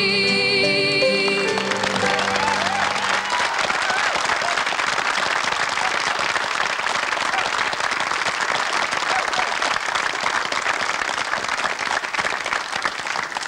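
A Cork crowd breaks into sustained, loud applause and cheering after a song, the tail of the music fading under it at the start, then dense clapping continuing steadily throughout.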